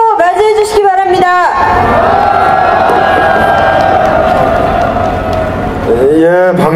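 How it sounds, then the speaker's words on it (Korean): A large crowd at a railway union rally during a memorial concert for Pastor Moon Ik-hwan bursts into a loud, sustained roar of cheering and shouting, with a speaker's voice just before and after. "큰 함성으로 맞이해 주시기 바랍니다."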